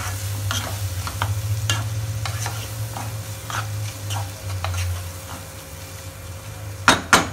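Prawn masala gravy bubbles and sizzles in a pan while a spoon stirs it, making repeated soft scraping taps over a low steady hum, with two sharper knocks at the end; no voices.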